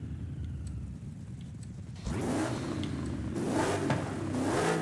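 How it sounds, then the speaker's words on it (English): A car engine in the racing game Forza Horizon 5 idles low, then revs up sharply and surges again, a loud, close mechanical roar with no talking. "It freaking twists the chassis when you rev."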